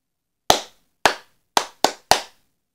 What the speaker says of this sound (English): You may have heard your teacher clap this rhythm before.